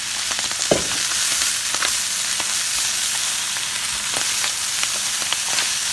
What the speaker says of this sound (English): We're going to fry this cabbage.